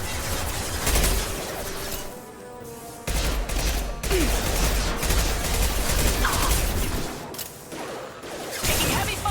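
Dense gunfire from the video game Mass Effect 2, with loud bursts of rapid shots and explosive thuds that drop out briefly and then resume, intense and close throughout.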